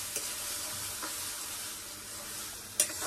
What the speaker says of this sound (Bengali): এখানে শুধু আমি মাছটা ভেজে নিচ্ছি